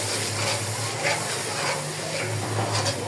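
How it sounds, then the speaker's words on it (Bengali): Water poured into a pan of frying chicken roast seasoned with chili powder, green chili paste and spice mix, giving a steady, close sizzling hiss that holds without a break. "এখন একটু পানি দিয়ে দিলাম"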